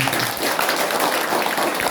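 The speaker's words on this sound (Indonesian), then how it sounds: "Tepuk tangan untuk Tuhan kita" A church congregation claps for God during a Sunday worship service, a dense steady patter of hands filling the room without pause.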